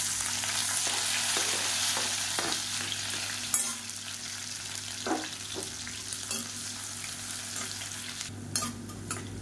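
Finely chopped onions fry in hot oil with whole spices like cloves, cardamom and star anise for a mushroom gravy, a steady close sizzle broken by occasional stirring scrapes.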